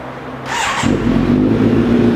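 2018 Kawasaki Z900SE motorcycle with a Daivo carbon slip-on exhaust fires up, a brief starter whirr giving way to a loud close idle rumble.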